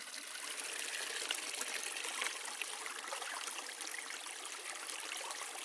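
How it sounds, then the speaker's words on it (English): Shallow woodland stream near Mirror Lake in the Porcupine Mountains, flowing steadily and close by with a constant bright trickling wash, no voices. "This is the best stream that I found around the Mirror Lake area"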